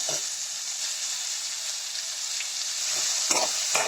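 Onions and green chillies sauté with salt in a pan, giving a steady close sizzle broken by a few scraping stir strokes toward the end.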